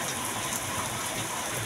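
Rain pours down in a dense, steady hiss, fairly loud and close, with no voices over it.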